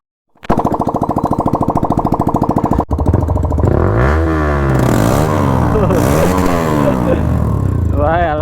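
A modified Yamaha R15 motorcycle running without a silencer, its loud engine idling in rapid pulses and then revving repeatedly in sharp, rising and falling bursts, close and alone.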